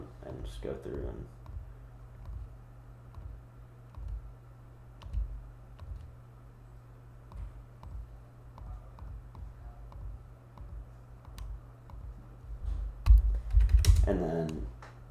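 Sparse, faint computer mouse clicks tick over a steady low electrical hum while drafting Civil 3D parcels, and a voice speaks briefly near the end.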